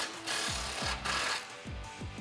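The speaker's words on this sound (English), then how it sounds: "tighten it down with a 15 millimeter deep socket" A ratchet or impact driver with a 15 mm deep socket tightens a muffler clamp on a 2009-2018 RAM 1500 during a Flowmaster FlowFX muffler install, heard as several rhythmic mechanical bursts close by, no speech.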